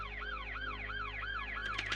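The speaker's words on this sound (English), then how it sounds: "The officer hits a siren and his lights on us." A Denver police car siren wails in a steady, repeating up-and-down sweep, continuous and moderately distant with no voices over it.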